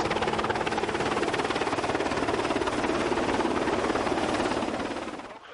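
A loud, steady helicopter close by, its rotor thumping in a fast rhythmic pulse over a broad engine roar, fading slightly at the end.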